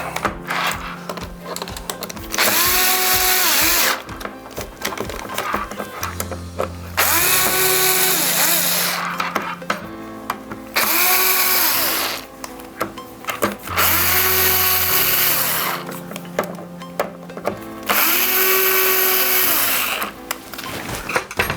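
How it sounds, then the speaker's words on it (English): A power tool drives a screw into a Flowcine Tranquilizer camera stabilizer during an O-ring replacement, loud close whirring bursts of a few seconds each with changing motor pitch, separated by short pauses. "now I'm gonna use my power tool again, and I'm gonna drive this in almost all the way"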